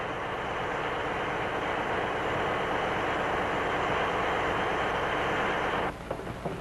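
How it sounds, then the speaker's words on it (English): Two or more White Pass diesel locomotives, each an 81-ton, 800-horsepower 8-cylinder engine, haul a freight train, giving a dense, steady broadband roar that holds evenly before thinning into rattling, uneven noise near the end. "Two or more diesel locomotives are combined to power each freight train."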